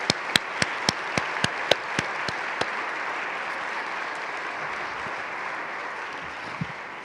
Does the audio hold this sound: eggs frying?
no